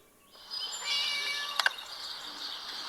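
A cat in the Scary Teacher video game gives a single drawn-out, high meow. A short double chirp follows near its end, and the sound plays alone over a quiet background.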